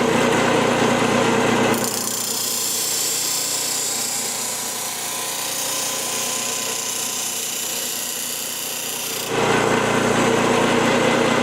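A bench grinder wheel works the bevel of a chisel during sharpening, a loud steady high-pitched grind running several seconds between brief spells of the motor spinning alone.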